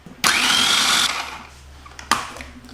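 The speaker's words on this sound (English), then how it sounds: "I'm going to add all the garlic into the food processor with the celery and process it first." A food processor chops garlic and celery for a curried red lentil soup, with a loud whirring burst of about a second, a fading tail, then a second short pulse, close up with no talking.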